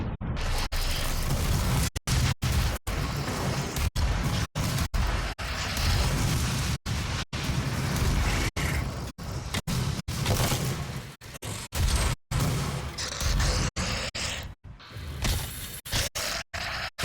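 Rocket launcher fire and explosions in Doom, a dense barrage of loud, close blasts and bursts that repeat throughout, broken by brief sharp cuts, with no talk.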